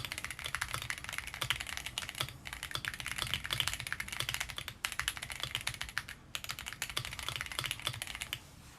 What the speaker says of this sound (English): before I take this keyboard apart, let's do a sound test.